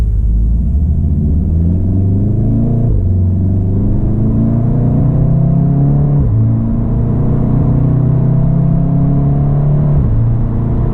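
A car with a DSG gearbox is driven in race mode, its engine rumbling loud and close from inside the cabin. The revs climb steadily between gear changes, with a clear drop at each shift.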